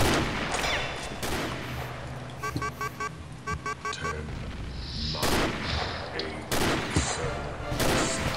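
Sniper rifle fire in a shooter video game, with sharp shots and rapid bursts of game gunfire and effects. A voice talks over them in places.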